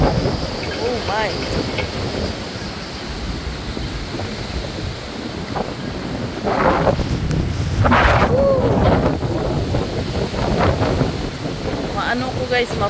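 Strong, gusty hurricane wind roars steadily against the microphone, with rushing surf and a few faint voices calling out in the background, in Florida during Hurricane Nicole.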